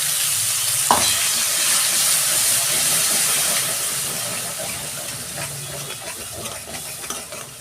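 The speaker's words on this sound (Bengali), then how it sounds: "এবার আদা বাটা দিয়ে দিই।" Ginger paste sizzling and spitting in hot oil already holding fried cumin, dried chilli, cinnamon and cardamom, a steady close frying hiss with stirring scrapes and a sharp spatter just after the start.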